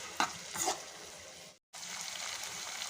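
Chopped tomatoes with salt being stirred in a frying pan: soft sizzling with a couple of wet stirring scrapes, close but quiet, a brief dropout partway through, no talk.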